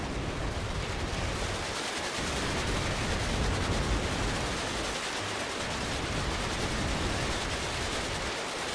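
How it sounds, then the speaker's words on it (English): A mass artillery barrage in the video game WARNO comes across as a dense, unbroken roar of distant overlapping blasts, fairly quiet and sustained with no distinct single shots and no voices. "you see the mass artillery starting to happen right now from Soul Crusher"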